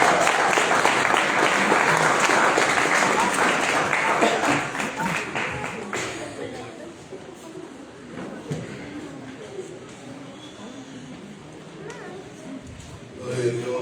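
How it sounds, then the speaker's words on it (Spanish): Loud applause from a congregation at a national church rally in Ecuador welcomes the pastor, a thick wash of clapping that holds for several seconds, then thins and fades into quieter room sound with some voices. "Vamos a dar un fuerte aplauso."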